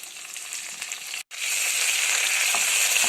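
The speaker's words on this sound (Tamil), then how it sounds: "நல்லா வதக்கிக்கோங்க." Dried turkey berries, dried red chillies and curry leaves sauté in hot oil in a pan, making a steady, loud, continuous sizzle with a brief drop-out partway through.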